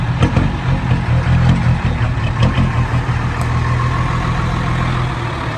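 A car engine pulled from its vehicle runs at a steady idle with a low, even rumble and faint clicks, a dust-affected motor still sounding smooth and continuous throughout.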